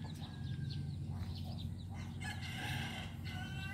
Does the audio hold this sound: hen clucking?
yes